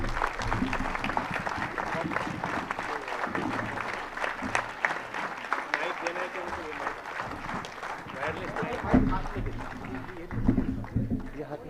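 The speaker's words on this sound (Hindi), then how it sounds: "तालियों की गूंज में आपका इस्तकबाल है" Audience applause rises to welcome Tabassum Nadkar onto the stage at an Anjuman gathering, a steady, dense clatter of many hands lasting throughout, with a few scattered voices mixed in.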